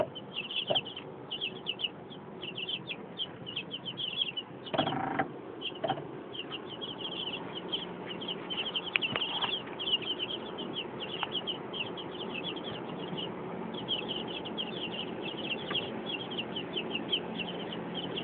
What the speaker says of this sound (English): They're eating some lettuce.